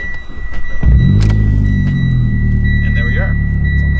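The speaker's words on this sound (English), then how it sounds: "and I turn my car on." A tuned Mitsubishi Evo X making over 500 hp cranks briefly and fires up, then settles into a loud, steady, close idle rumble with a faint electronic whine.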